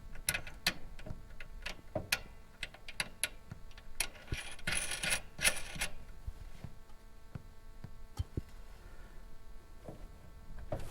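A locking nut is threaded by hand onto a metal nipple fitting of a Siemens FS140 surge protection device, giving faint, irregular metallic clicks and ticks with a brief scraping rustle partway through.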